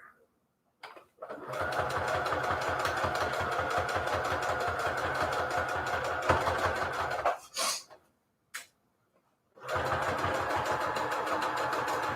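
A sewing machine runs a straight stitch at the smallest default stitch length while stitching Christmas fabric journal covers with Peltex 72F, humming steadily for several seconds, stopping, briefly restarting, then running again near and loud.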